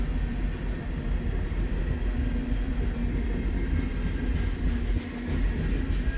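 Freight train rumbling slowly along the tracks in a rail cut, a steady continuous low roar with faint high-pitched wheel squeal throughout, fairly loud and unbroken, no talking.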